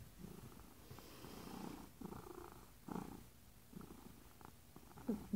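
A contented cat purrs close up, a steady rumbling purr with soft rhythmic breathing pulses throughout, heard alone without talk.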